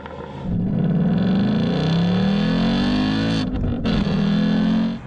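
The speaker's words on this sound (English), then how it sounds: "like other AMGs, it has a real finely tuned raspiness to it" A Mercedes-AMG GT C engine and exhaust rise loudly through the revs, dip briefly around a gear change, then pull again with a raspy, guttural note, close up and with no talking.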